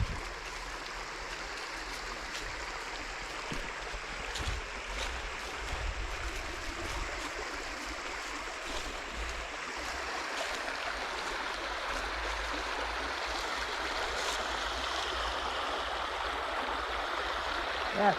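Creek water flows steadily beside a rocky hiking route down into a valley, a continuous broadband rush with no break, close and moderately loud, with no one speaking.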